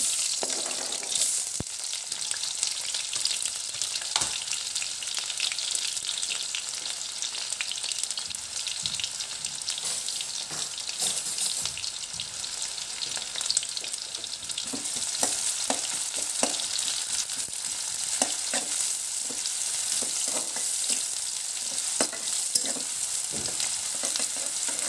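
Onions fry in hot oil in a kadai, giving a steady, bright sizzle with occasional clinks and scrapes of stirring, heard close and without talk.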